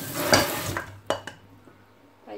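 A blackened frying pan gets scrubbed, giving a burst of rough, wet abrasive scraping, then a few sharp knocks and short scrapes, close and fairly loud, with no talking.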